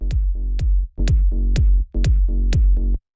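House-music low end with no drum bus processing: booming kick and bass hits land in a steady four-on-the-floor pulse, loud and upfront, with no voices.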